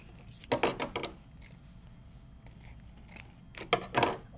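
Scissors trim ribbon at an angle for bow making, with two quick clusters of close, crisp snipping cuts separated by a quiet pause.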